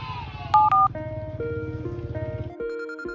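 Mobile phone being dialed to call someone, a quick run of electronic key tones with a short ringing tone, close and clear over a low background hum.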